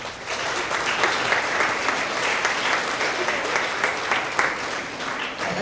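Sustained applause from an audience at an elementary school end-of-year award assembly, honoring third-grade Tigers of the Quarter; dense, steady clapping from many hands fills the whole stretch at an even, fairly loud level without a break.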